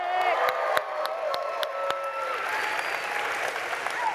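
A live crowd at a creator awards event applauds and cheers for co-host Alexis, with loud sustained clapping, a few whoops and sharp individual claps near the start, settling into a steady roar of applause.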